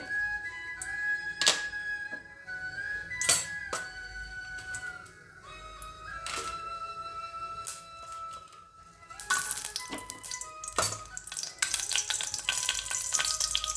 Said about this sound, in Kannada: ಒಂದು ಅರ್ಧ ಸ್ಪೂನು ತುಪ್ಪ ಇಟ್ಬಿಟ್ಟು ಅದಕ್ಕೆ ಏನು ಒಗ್ಗರಣೆ ಕೊಡೋಂಥದ್ದು